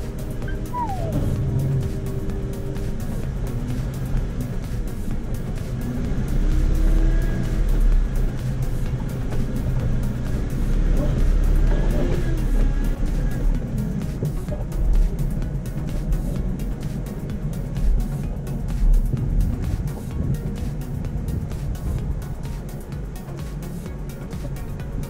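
A Pontiac rolls along an icy off-road trail, a steady low engine and tire rumble running throughout, fairly close and continuous, with faint wind and outdoor noise and no talk.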